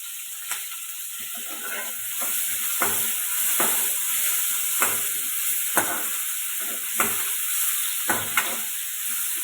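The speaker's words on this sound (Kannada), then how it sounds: "ಇದಿಷ್ಟನ್ನು ಎಣ್ಣೆ ಚೆನ್ನಾಗಿ ಹುರ್ಕೊಳ್ಳೋಣ" Ginger and apple tomato sizzle in hot oil in a home kitchen, a steady frying hiss broken by repeated clinks of a spoon stirring the pan, with no voices.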